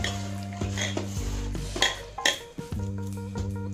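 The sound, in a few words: mixing prawn poppy seed paste by hand in bowl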